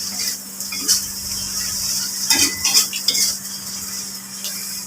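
Twice-boiled beef being sautéed in a pan, with a spatula scraping and clinking against the metal over a steady hiss and several louder bursts of stirring.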